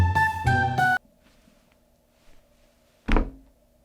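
A door is shut in an animated Christmas special with a single dull thud that follows a brief, loud, voiced burst and a quiet pause.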